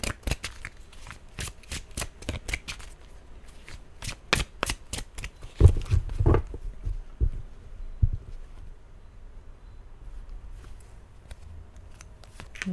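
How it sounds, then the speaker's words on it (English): Tarot cards being shuffled by hand, a long run of crisp riffling snaps and flutters in uneven bursts, close and fairly loud, with a few heavier thumps midway as the stiff deck resists; no one speaks. "these cards do not want to shuffle"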